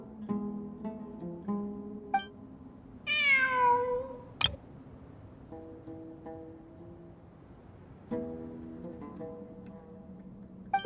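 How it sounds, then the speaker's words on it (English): A cat in the Genshin Impact game meows once, loud and drawn out, between quiet in-game musical tones and soft ambient sounds. "It really is a cat."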